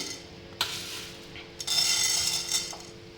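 Jowar (sorghum) grains are stirred in a hot pan on the stove, giving a few sharp metallic clinks and light scraping over a steady background hiss, with no talking.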